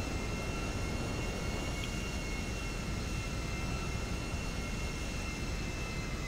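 An airplane in Grand Theft Auto V flies with a steady, even engine drone that holds at one level throughout, with no talk.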